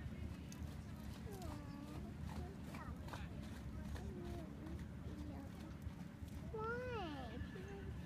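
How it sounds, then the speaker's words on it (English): Horse at a dressage show, with a whinny rising near the end and hoof clip-clops mixed into steady background noise, while several people talk over it throughout. "The horse is naughty."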